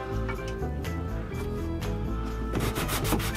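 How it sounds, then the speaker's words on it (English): Teak wood on a boat, water-damaged and being repaired, is hand-sanded with 120-grit sandpaper in a steady, continuous rubbing scrape that stays close and even throughout. "I have the wall sanded down with 120 grit sandpaper"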